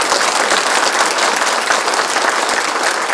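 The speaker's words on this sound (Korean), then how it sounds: "그래도 내가 감사하다는 우리 큰 박수 한번 해주십시오." A large audience at a Korean town hall gathering with a provincial governor breaks into loud sustained applause, a dense, even wash of many hands clapping together with no break.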